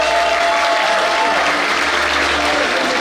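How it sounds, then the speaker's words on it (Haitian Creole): Audience applause for the crowning of Miss Internationale 2019 at a beauty pageant during the Bikini Ayiti Mizik Fest, a loud, steady wash of clapping hands that fills the whole stretch without pause. "Applaudissez mesdames et messieurs la nouvelle Miss Internationale 2019."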